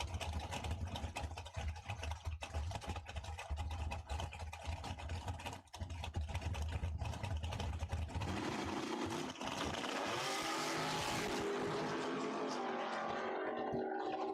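Chevette and a 1969 Nova at a drag strip in a points race, engines idling loud and steady before revving up hard, with a rising roar of acceleration near the end.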